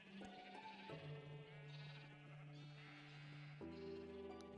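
Sheep in Minecraft on a superflat world bleat softly in a few drawn-out, wavering calls, quiet and close, with no talk.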